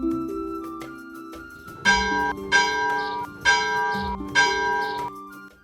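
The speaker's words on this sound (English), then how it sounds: "A villain of the castle rings the bell and the priest welcomes his people to the worship." A small bell in the bell mechanism of a LEGO castle chapel model rings four clear, evenly spaced strikes, each leaving a bright metallic tone that lingers into the next.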